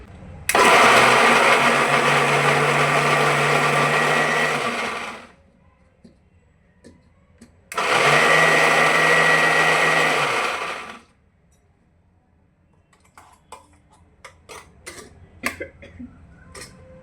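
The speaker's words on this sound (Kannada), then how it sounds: "ಇವಾಗ ಮಿಕ್ಸಿಗೆ ಹಾಕ್ತಾಯಿದ್ದೀನಿ" A mixer grinder blends a quick chutney in two loud bursts of steady whirring, each about four seconds long with a short pause between them, followed by faint clicks and taps as it stops.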